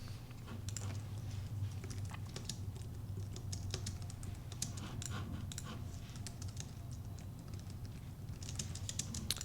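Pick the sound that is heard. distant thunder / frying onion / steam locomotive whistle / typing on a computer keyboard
typing on a computer keyboard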